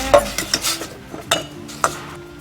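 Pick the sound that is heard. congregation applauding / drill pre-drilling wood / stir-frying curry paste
stir-frying curry paste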